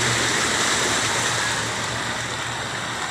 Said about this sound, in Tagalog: Baha sa aming barangay.